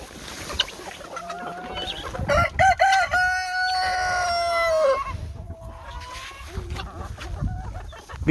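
Guinea fowl and chickens call at a homestead chicken hoop coop, with a rooster-like drawn-out crow in the middle and scattered clucks and squawks before and after, fairly close and without talking.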